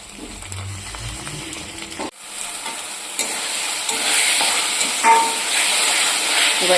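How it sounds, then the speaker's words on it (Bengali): Browned onions with ground spice paste in oil: a quiet stir and scrape of the pan, then a sharp jump into loud, steady sizzling and hissing that grows stronger and keeps going, with no talking. "এবার এই মশলাটাও ভালো করে কষাতে হবে, তেল ছাড়া পর্যন্ত কষিয়েই যেতে হবে।"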